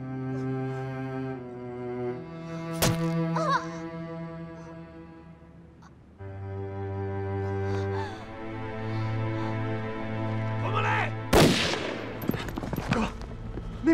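Gunfire in a Chinese war action film about fighting the Japanese army: two sharp, loud shots about eight seconds apart ring out over a sustained orchestral score.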